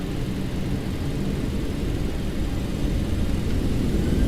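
Boeing 737-800 jet engines spooling up as the throttle is advanced for an Air India Express flight from Kochi in X-Plane 12, a steady loud broadband roar holding even throughout, with no voices.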